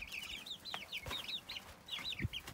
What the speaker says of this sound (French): Alors, on a les poules qui vont nous attaquer aussi